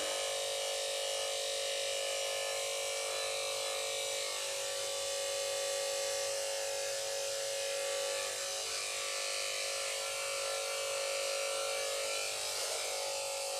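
Electric clippers shaving between the toes of a Mini Schnauzer, a steady close motor buzz with a strong tonal hum that holds evenly for the whole stretch, no voices.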